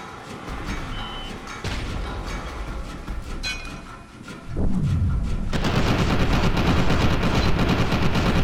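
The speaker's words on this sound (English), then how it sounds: "I think I'm actually shooting it." Rapid automatic gunfire from the first-person shooter video game F.E.A.R. 2 rattles in dense bursts, swelling louder and more continuous in the second half.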